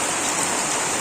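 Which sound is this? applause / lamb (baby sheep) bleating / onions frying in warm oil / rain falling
rain falling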